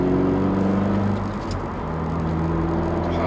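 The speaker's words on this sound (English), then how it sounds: "Oh, that intake sounds so good." A 2015 Mazda3 engine intake droning steadily from inside the car while driving, low harmonic tones shifting slightly as the revs change, with broadband road noise and no talking.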